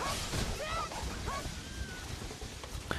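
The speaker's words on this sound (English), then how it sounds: "I really think the dogs seriously shouldn't exist in this game." Enemy dogs in Ninja Gaiden 3: Razor's Edge yelp and whine in short, fairly faint bursts amid a busy, noisy game soundtrack.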